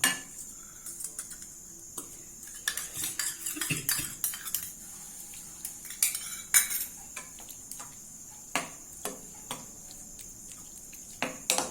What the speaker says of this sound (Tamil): போட்டுட்டு உடனே நல்லா கிளறி விட்டுடணும்